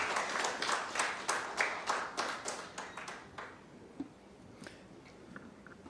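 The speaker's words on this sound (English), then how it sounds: "Let's give another round of applause to Professor Suruma." A small audience at a policy forum on social protection and public finance claps for a professor; the faint, distinct handclaps last about three seconds, then trail off into a few scattered claps.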